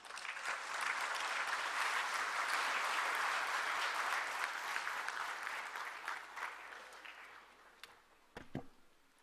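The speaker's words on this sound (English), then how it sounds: "I want you all to give him a huge round of applause" Sustained audience applause fills a formal National Human Rights Commission ceremony after an address by the President of India. The dense clapping stays strong for several seconds, then thins out and fades, with a few scattered claps at the end.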